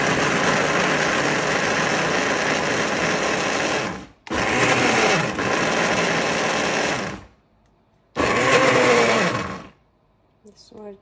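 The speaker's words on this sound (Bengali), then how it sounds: "প্রথমে টেস্ট করব ব্লেন্ডারটা ম্যাঙ্গো জুসে" A Starfirt 2-in-1 combo blender whirs loudly while blending mango juice, running steadily in bursts with brief stops between, near and continuous.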